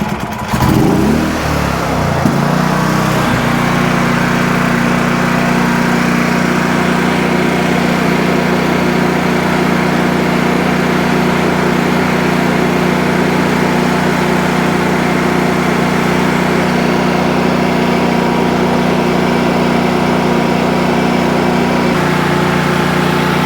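Tri-fuel generator engine running on propane, starting with a brief rough crank and catch, then settling into a steady, loud, close drone with a constant hum throughout; no talking.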